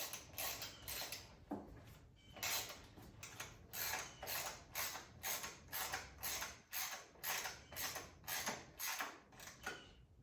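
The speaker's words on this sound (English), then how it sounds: "now let's bolt that tank back on. So we're going to use our 5 T30 bolts." Bolts being driven with a rhythmic ratcheting tool to fasten the fuel tank back onto a KTM 450 SXF dirt bike using T30 Torx bolts, steady repeated clicking bursts, close and fairly quiet.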